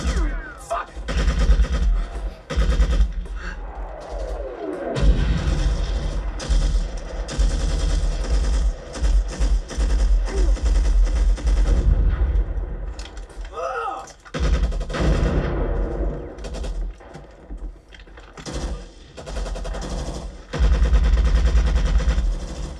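Grenade blasts and bursts of gunfire from the war film Hamburger Hill, a dense, continuous battle mix of loud bangs and rattling shots with score and shouting underneath.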